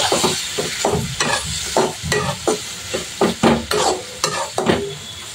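Green chilies split down the middle and tomatoes sautéing in a pan, with a steady sizzle broken by repeated rhythmic scraping stirs close by, each stroke a sharp burst over the frying hiss.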